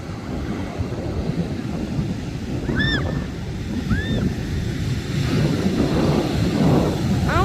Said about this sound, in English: Literally spotted and then the wave comes.